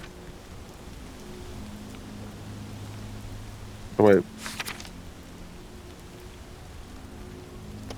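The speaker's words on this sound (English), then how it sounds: "Oh, and it's raining?" Steady, soft rain patters throughout a scene in The Walking Dead: Saints & Sinners, a constant hiss in the background; a voice briefly speaks midway.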